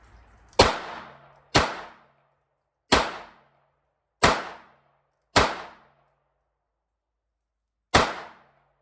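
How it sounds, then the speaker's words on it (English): A Smith & Wesson Model 34-1 .22 Long Rifle kit gun revolver fires six sharp, loud shots at a range, spaced unevenly about a second apart with a longer pause before the last, each ending in a brief fading ring. "let's take some shots with the Model 34-1 kit gun in 22 long rifle"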